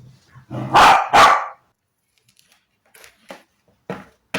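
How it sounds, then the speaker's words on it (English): Two loud, close dog barks in quick succession, followed by a few fainter, shorter yips and sounds. "sorry, my dogs are barking."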